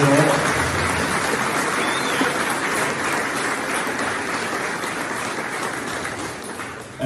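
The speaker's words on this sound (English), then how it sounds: "I would actually ask you to give a round of applause for those guys doing an absolutely wonderful job" An audience in Edinburgh gives a steady, dense round of applause for the behind-the-scenes staff, sustained and fairly loud throughout with no pause.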